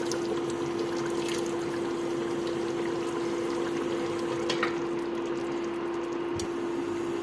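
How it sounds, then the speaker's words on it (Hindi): Water streams steadily into mash daal in a pressure cooker, a continuous close rushing pour over a constant low hum, with no break and no talking. "अभी हमने बस इतना ही पानी ऐड करना है कि इसमें ये डिप हो जाए।"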